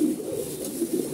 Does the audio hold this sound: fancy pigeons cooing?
yes